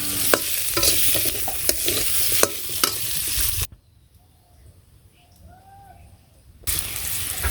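Potatoes stirred and fried in a pan give a loud crackling sizzle with scraping stir strokes, cut by a few seconds of near silence before the frying noise returns.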